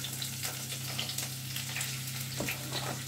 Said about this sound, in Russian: И нарезаю вот на такие кусочки небольшие. Таким кубиком, таким не очень крупным мясо. И отправляю сюда же сразу в кастрюлю обжариваться мясо.